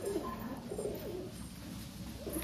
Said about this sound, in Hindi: ये देखिए सारे कबूतर हैं भाई के रोशन चिराग